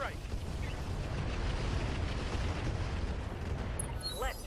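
Missile impacts in the mech combat game RogueTech: a dense, continuous rumble of explosions and booms rolls on without pause, loud and low, and a voice breaks in briefly near the end.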